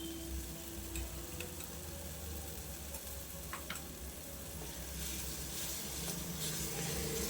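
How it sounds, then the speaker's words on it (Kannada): Chopped tomatoes and ginger garlic paste fry in a pan with a steady, close sizzle, with faint clicks of stirring now and then. "ಇದೆಲ್ಲದನ್ನು ನೀಟಾಗಿ ಫ್ರೈ ಮಾಡಿಕೊಂಡು"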